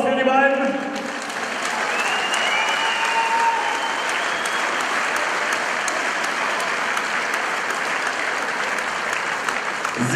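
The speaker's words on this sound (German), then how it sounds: "jetzt kommt das mal wieder der obligatorische Applaus für die beiden." A crowd at a Sprawl & Brawl mixed martial arts event applauds both fighters, a dense sustained roar of clapping lasting the full stretch at a steady loud level.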